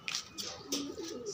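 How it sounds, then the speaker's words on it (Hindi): A large pigeon coos in soft, repeated throaty phrases, close but fairly quiet, with faint hiss behind it. "ये तो पूरा बहुत बड़ा कबूतर है।"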